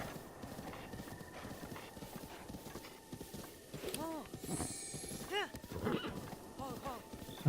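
Horse in Breath of the Wild, with quick clip-clop hoofbeats throughout and several distinct neighs and whinnies, while a player talks over the game sound.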